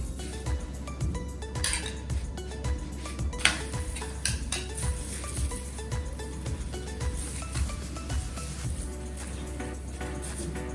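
A roti brushed with butter cooks on a hot tawa, with a soft sizzle under repeated clinks and scrapes of a utensil against the metal pan, irregular and fairly quiet.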